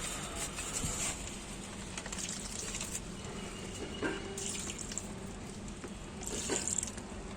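Water from a rinsed packet is poured onto potted cucumber plants in grow bags on a balcony, a steady close splashing and pattering trickle with brief louder gushes.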